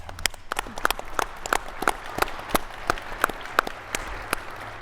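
An audience at an air traffic control industry panel breaks into steady applause, a dense patter of many hands clapping with a few sharper individual claps standing out, sustained throughout at moderate distance.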